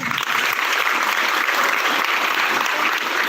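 Graduates at a high school graduation ceremony in Buenavista give their parents a loud, dense round of applause that stays close and continuous for the whole stretch.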